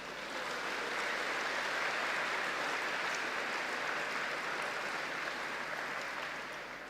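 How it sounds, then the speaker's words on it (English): A crowd gives steady, dense applause at a tennis tournament final. The clapping holds at an even level, then fades slightly at the close, with no talking. "big round of applause"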